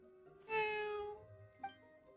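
A cat meows once, a clear rising harmonic call in the video game Genshin Impact, followed by a brief short chirp a moment later, close and alone without talk.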